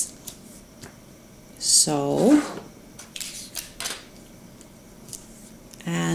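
Scissors snip through a paper sewing pattern being cut down the center, a brief close crunching cut, then quieter paper handling while someone speaks briefly.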